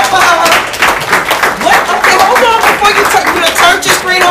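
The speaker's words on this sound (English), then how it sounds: "Can you clap it up for her?" Audience clapping and cheering for a student at a social justice event, steady and dense throughout with a crowd roar and voices mixed into the applause.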